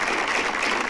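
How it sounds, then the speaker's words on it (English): Brief burst of dense audience applause at an evening college event in Bermuda, a full, steady wash of many hands clapping with no gaps and no voices over it. "Can we give our host with the most a"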